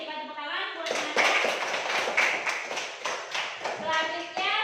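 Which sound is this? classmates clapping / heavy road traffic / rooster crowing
classmates clapping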